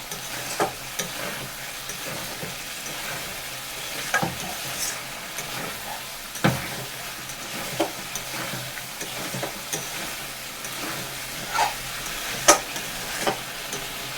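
Spice paste for a red rita fish and potato curry sizzles and fries steadily in hot oil, with soft crackling and occasional stirring scrapes throughout.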